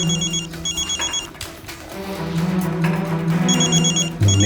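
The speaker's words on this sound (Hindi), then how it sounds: "मम्मी का फोन।" A telephone bell rings in repeated short bursts, loud and close, with a low background rumble beneath it.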